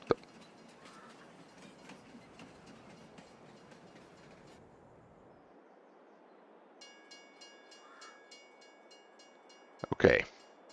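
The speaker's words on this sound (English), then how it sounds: "Hey, there's our train." A train in the Farming Simulator video game rolls along with a low, quiet rumble and faint wheel clatter, then a brief burst of horn-like tones near the end.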